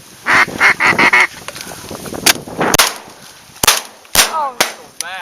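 Ducks calling and honking in bursts during a blizzard duck hunt, several close, loud quacking calls mixed with sharp gunshot cracks and rushing wind.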